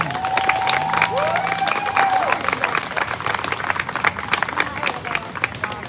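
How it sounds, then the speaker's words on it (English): Crowd at a peaceful protest gives a round of applause, sustained scattered clapping with some cheering, fairly close and full, while a voice carries on faintly underneath. "So everybody give him a round of applause, please."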